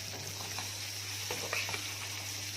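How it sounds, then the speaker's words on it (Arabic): Washed, drained rice fries with vermicelli and onion for Egyptian koshari, a soft steady sizzle with a few light scraping stirs over a low constant hum. "وهنستمر برضك في التقليب لغايه لما اشوح الرز خالص مع الشعريه والبصل"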